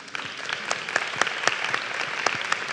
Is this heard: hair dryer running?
no